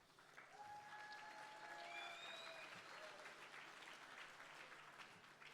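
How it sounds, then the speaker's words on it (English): Steady applause fills a room at the IGFA Legendary Captains awards ceremony as Bouncer Smith is honored, a crowd clapping continuously at a moderate distance with faint cheers and whistles. "You always get the most applause by Bouncer."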